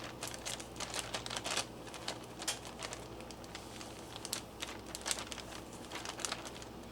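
A plastic bag holding freeze-dried steak and water pressed shut: quiet, close crinkly rustling and small clicking pats running throughout, alone without talk.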